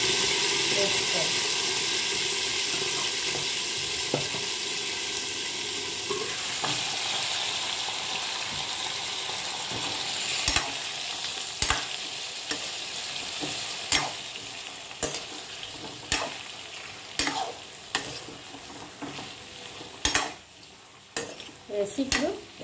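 Brinjal frying in a pan with ginger, green chili and coriander, a steady sizzle with sharp clinks of a spatula stirring against the pan growing frequent toward the end, close and moderately loud.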